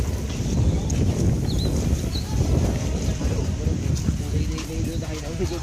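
Strong cold wind at night at Harisankar in Bolangir, Odisha, buffeting the microphone with a loud, continuous low rumble, while a person talks over it.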